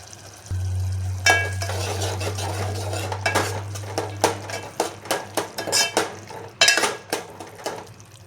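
A spoon stirs a peanut bhajiya curry made with yogurt in a pan, giving repeated scraping clinks and knocks against the metal over a low, steady hum and a light simmering sizzle.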